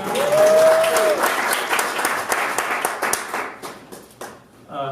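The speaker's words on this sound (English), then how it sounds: "Clap it up for Hannah." Audience applause greets Hannah at a Creative Mornings gathering in Tucson, lively clapping with a brief whoop at the start that gradually thins and fades toward the end.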